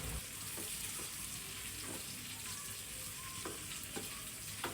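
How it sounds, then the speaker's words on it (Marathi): Onions sautéing in oil with kokum (aamsul) for a cashew prawn chutney, a steady close sizzle and crackle of frying with occasional stirring scrapes, no talk. "त्यानंतर भरपूर कांदा घालायचा आहे आणि व्यवस्थित परतून घ्यायचा आहे"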